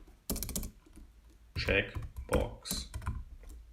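Rapid clacking keystrokes on a computer keyboard come in a few bursts of typing, close and fairly loud, with someone speaking briefly between them.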